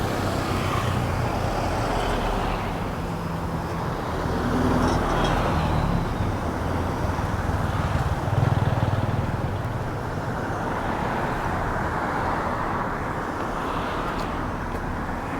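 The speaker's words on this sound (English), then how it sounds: "A nice breeze with those cars going by." Cars and other road traffic pass steadily along a street in Chiang Mai, Thailand, a continuous mid-distance rumble that swells slightly as vehicles go by, mixed with some wind noise and no talk.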